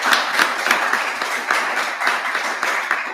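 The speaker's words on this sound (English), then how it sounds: "our live audience, if we can give them a round of applause" A live show audience applauds steadily and loudly, dense clapping filling the whole stretch without letting up.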